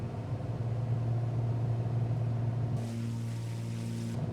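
A Piper PA-28R's single piston engine powers up for takeoff in a flight simulator game, a steady droning hum that rises in pitch and gains a brighter roar partway through, close and continuous.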